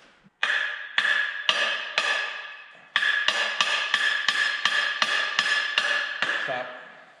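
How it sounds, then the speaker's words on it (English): A hammer strikes a baler bearing in a workshop, landing a steady run of about a dozen sharp metallic blows with ringing decay, with a brief pause partway through and a softer clank at the end. "Grab that hammer."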